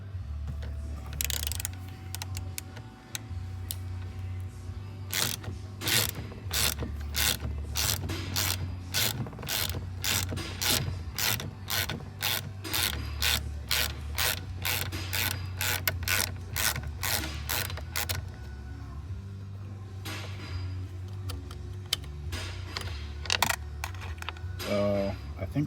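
A ratchet loosens a 12 mm bolt during VW airbag removal, a long run of rapid, evenly spaced clicks close up, with a short burst near the start and quieter handling noises after the clicking stops.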